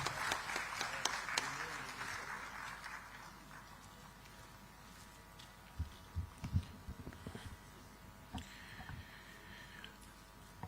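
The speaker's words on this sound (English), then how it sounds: "please welcome him with a huge round of applause" An audience at a digital technology summit in Visakhapatnam claps to welcome a speaker, a soft, distant patter of applause that fades within a few seconds into a quiet hall with scattered thumps.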